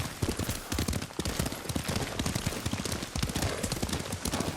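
Rapid hoofbeats of a galloping horse in a video game pound steadily and fairly close, a dense rhythmic clatter with no voices.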